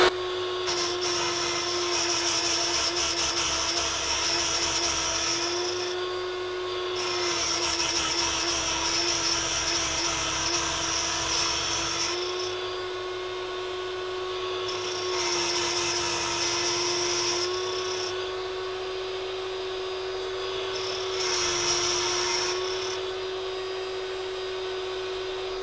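A Parkside drill bit sharpener grinds a drill bit with a steady, high-pitched motor whine, its grinding rasp swelling in four or five long bursts over nearly half a minute, close and loud with no talk.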